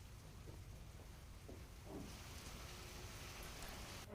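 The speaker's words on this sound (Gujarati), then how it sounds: "દરિયાકાંઠાના ગામોમાં વરસાદ થઈ રહ્યો છે" Steady rain falls over coastal villages in Gir Somnath, Gujarat, a soft continuous hiss of drops that thickens slightly partway through, with faint low rumbles in the background.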